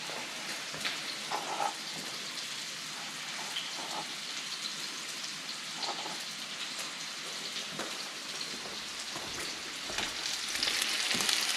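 Butter sizzles in a hot pan beside a searing steak, a steady crackling hiss with scattered pops that builds a little louder toward the end.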